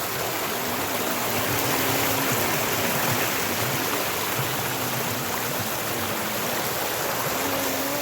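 Stream water rushes over rocks in a steady, broad hiss, close and constant throughout, with a faint low tonal hum beneath and no talk.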